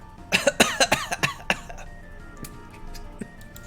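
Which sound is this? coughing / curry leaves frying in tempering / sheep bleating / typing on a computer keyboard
coughing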